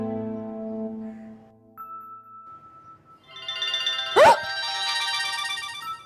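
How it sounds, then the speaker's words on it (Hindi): A phone ringtone plays as a melodic electronic tune with sustained tones, a brief high ping in the middle, then a brighter chiming phrase, all fairly loud and clear. "बिलाल का फोन है।"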